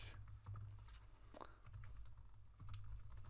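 Someone typing code on a computer keyboard, a faint close-up run of quick, irregular key clicks and taps over a few seconds, with no talking.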